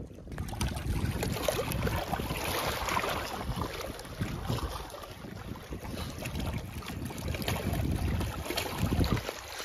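Water at Konda Pochamma dam makes a steady, loud, broadband rushing wash, like beach waves breaking, mixed with wind buffeting the microphone and continuing without a break throughout, with no voices.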